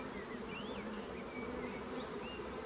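Honey bees from a nuc colony buzz in a steady, quiet hum. The drone runs unbroken throughout, with faint higher whines of individual bees passing close.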